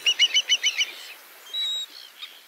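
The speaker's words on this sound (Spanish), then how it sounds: "las aves playeras migratorias descansan en la Reserva Costa Atlántica" Migratory shorebirds on an Atlantic coast beach reserve call close by: a rapid series of six sharp piping notes, then a drawn-out whistle and a few softer chirps, with no talk.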